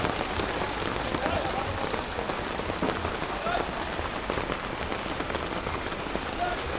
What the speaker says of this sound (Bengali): শুরু হয়ে গেল বৃষ্টি।